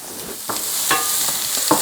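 Chopped onion sizzles in a preheated pan, a steady hissing fry broken by several sharp scrapes and knocks of stirring, close and without talk.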